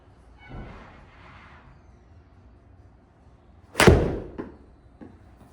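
A golf club strikes a ball on a fade shot, one sharp, loud impact cracking out of near silence, followed by a couple of faint thuds, with a soft murmur earlier.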